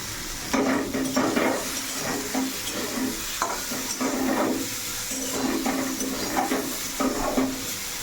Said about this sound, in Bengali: আজকে জলখার বেলা আলু ভেজে দিচ্ছি